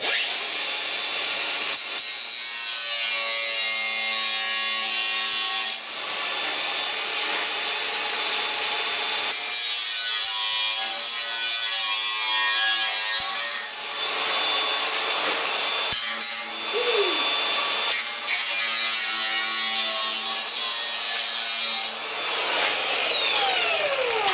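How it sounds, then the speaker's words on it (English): Cutting wheel roughing out rusted sheet metal on the core support of a 1969 Chevrolet C10 truck, a loud continuous grinding whine with several brief pauses and restarts, close up with no talking. "I'm just going to rough this out with my cutting wheel."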